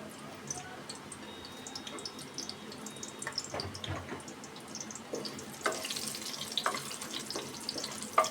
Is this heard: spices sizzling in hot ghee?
yes